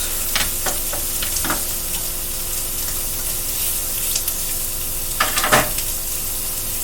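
Italian sliders sizzle on a grill pan, a steady close crackling hiss broken by sharp bursts of spatter and scraping as they are moved, with no voices.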